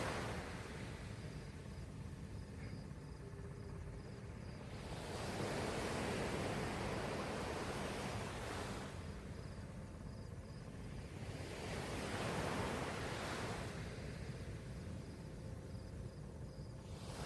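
Ocean waves on a beach roll in with a broad, soft hiss, swelling and receding in slow surges every few seconds, fairly faint and steady with no voices present.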